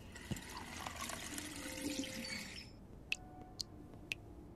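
Water runs from a kitchen tap in The Wolf Among Us, a steady broadband rush for under three seconds that cuts off, then a few sharp faint clicks follow in a quiet room.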